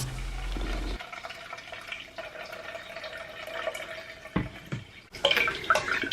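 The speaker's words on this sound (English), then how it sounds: "I'm using my strainer to just get the juice out of the carrots" Carrot juice strained through a kitchen strainer, heard as steady close trickling and dripping liquid with a few wetter splashes and rustles near the end, no voices.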